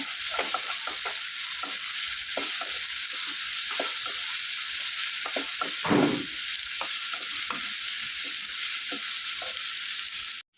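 Curry leaves and onions sautéing in a pan for Kerala semiya uppumavu, a constant bright sizzle with repeated scraping stirs and one heavier clatter midway, close and steady, no talk.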